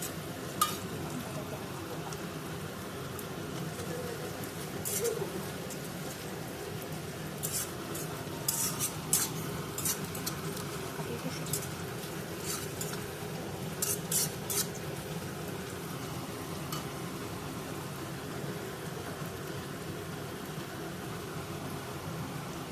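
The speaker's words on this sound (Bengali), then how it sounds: "পেঁয়াজগুলো ভালো করে ফ্রাই করে নিয়ে আসি।" Onions frying in a pan for a chicken curry, a soft steady sizzle with occasional scraping stirs, fairly faint and without talk.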